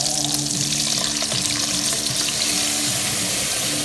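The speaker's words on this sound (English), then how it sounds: "So I'm going to just take my sauce," Sauce going into a hot pan of browned spaghetti ingredients, a steady loud wash of pouring and sizzling that runs without a break throughout, alone with no voices.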